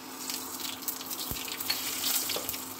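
Mustard seeds, panch phoron, fenugreek and bay leaf sizzle in hot oil for a fish curry, a steady crackle and hiss with a few sharp pops as the spices hit the pan.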